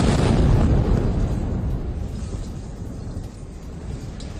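A Hamas command-centre building in central Gaza destroyed by a blast: one heavy, deep boom at the start that rolls out into a long, fading rumble.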